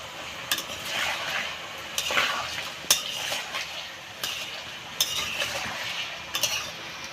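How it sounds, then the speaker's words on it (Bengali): Potatoes fry in a pan with whole cardamom, cinnamon and salt for a fish-head potato curry. A steady close sizzle is punctuated every second or so by sharp clinks and scrapes of a stirring spoon. "আলুটা ভাজা হয়ে আসছে"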